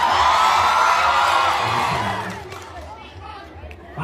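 A festival crowd in Capiz roars with shouting and cheering that swells loudly at first, then fades to a softer murmur of voices.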